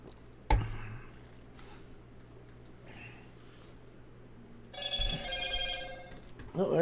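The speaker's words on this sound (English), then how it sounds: "Oh, there goes my phone." A telephone rings twice, a single short burst near the start and a longer tonal ring later, heard at moderate distance over a low steady hum with no talking.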